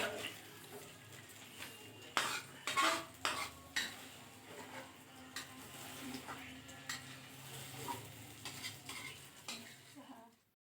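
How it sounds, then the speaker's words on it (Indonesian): Eggs are scrambled in a pan for an Indonesian rice dish. A spatula scrapes and clatters sharply against the pan in quick bursts over a low sizzle, then settles into softer steady stirring, all close up. "Dan telurnya kita kocok lepas ya. Kita orak-arik."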